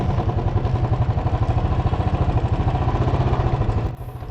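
A motorbike engine chugs steadily up close on a stony, boulder-strewn mountain road in Ladakh near Pangong Lake and Nubra Valley, with a rhythmic pulsing throb and faint rattling, cutting off briefly near the end.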